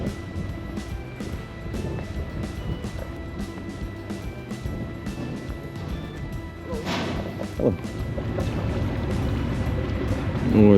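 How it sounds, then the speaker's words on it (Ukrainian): Seaside ambience on the Istanbul waterfront, with motor boats running on the water amid a steady busy wash of engine rumble and splashing, a few sharp knocks, and the noise building slightly louder toward the end. "ось цей катер, і он той катер, і он той далекий маяк. Всі свідчать про те, що це море."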